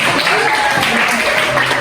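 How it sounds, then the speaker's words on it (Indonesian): Dense, steady applause from a crowd at a training session fills the room, loud and continuous, with a voice speaking faintly underneath. "Messi, kasih tepuk tangan kepada"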